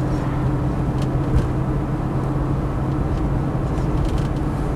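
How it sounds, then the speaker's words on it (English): The heater blower motor in a Land Rover Defender 90 V8 gives a steady, fairly loud whooshing hum inside the cab, unbroken and even, with no speech. "Heater blower motor works."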